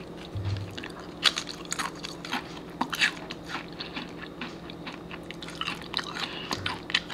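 Quiet, close crunching bites and chewing of a crisp, flaky layered biscuit made without yeast, irregular crackles repeating over several seconds.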